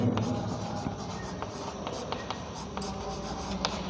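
Writing on a board during a genetics lesson goes on steadily, with repeated scratchy strokes at close range and a constant background hum; nobody speaks during it.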